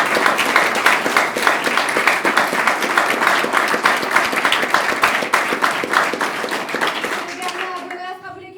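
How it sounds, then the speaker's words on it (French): An audience claps steadily for a partner standing nearby, dense applause running several seconds before thinning and fading out at the end. "qu'on peut applaudir aussi"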